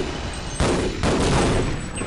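Dense, continuous gunfire from the shooter game Half-Life, a loud sustained fusillade of rapid shots that swells in bursts over a couple of seconds with no pauses.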